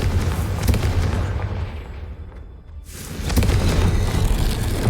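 A Confringo blasting spell bursts in Hogwarts Legacy with a loud, roaring explosion that swells, dips briefly into a low rumble, then surges back into a dense sustained blast.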